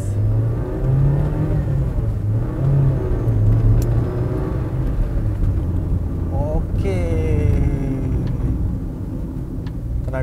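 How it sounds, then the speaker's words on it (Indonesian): A car with a 1500 cc DOHC fuel-injected engine revs up loudly and steadily from inside the cabin, the engine note rising and holding as it accelerates. "Tenaga mesin dari 1500 cc nya, mesin DOHC yang sudah injeksi,"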